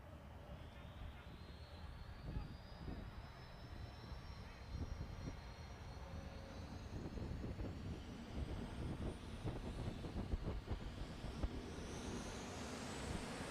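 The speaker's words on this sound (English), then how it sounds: "The jet engine spinning over. You hear that high-pitched sound as the rotors are going around really fast" A jet funny car engine spins up at a drag racing event, giving a rising high-pitched whine over a constant roaring rumble that builds steadily louder.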